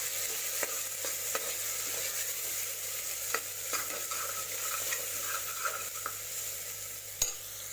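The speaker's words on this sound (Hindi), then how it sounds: "इसको हम अच्छे से मिक्स कर देंगे।" Chili and turmeric powder are stirred into a chicken curry in a pan: soft repeated scraping and light ticks over a constant low sizzle, close but fairly quiet, with no talk.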